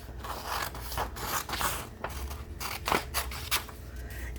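Scissors snip through paper notes in quick, uneven cuts, each crisp close-up snip followed by rustling paper, with no talk over it.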